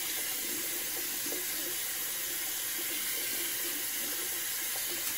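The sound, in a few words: rinsing a face painting brush under running water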